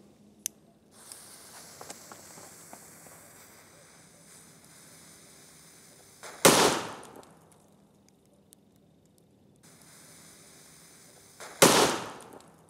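Firecrackers blasting against a computer monitor: two sharp, loud bursts several seconds apart, each separated by stretches of quiet hiss and faint rustling.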